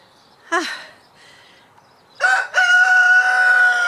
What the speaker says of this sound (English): There's the cockerel.